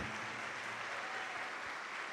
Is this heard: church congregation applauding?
yes